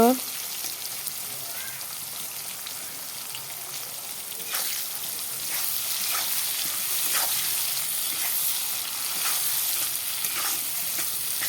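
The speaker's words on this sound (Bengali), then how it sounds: "অনেক সময় লেগেছে পেঁয়াজগুলো লাল হওয়ার জন্য আরও কিছু সময় ভেজে নেব" Onions frying in a pan for a Bengali egg curry give a steady, bright sizzle that swells a little partway through, with occasional soft stirring ticks.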